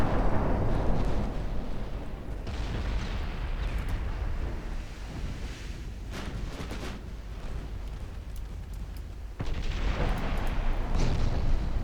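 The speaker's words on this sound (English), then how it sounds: "Especially now that there are torpedoes hitting her." Torpedo hits and explosions pound a warship in a naval battle game, with heavy rolling booms and crackling blasts layered over one another. Loud, dense bursts come at the start, around six seconds and again near the end, with no talking.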